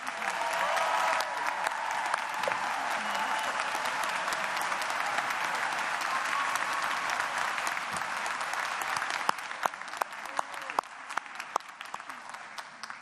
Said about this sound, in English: How about another big round of applause for all our graduates?